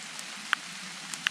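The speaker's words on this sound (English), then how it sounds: "Some rain. It should pass pretty quickly." Light rain from a small passing summer storm cell patters steadily on an outdoor Florida swamp trail, a soft even hiss with a couple of distinct nearby drops.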